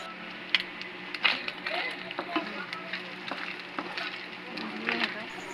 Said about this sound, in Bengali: এদিকে পেঁয়াজ মরিচ ভেজে নিচ্ছি